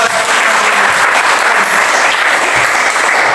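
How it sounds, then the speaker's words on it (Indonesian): A class of students applauds in a religion lesson, with loud dense clapping that holds steady and close throughout, with no talk over it. "Ya, mari kita tepuk tangan."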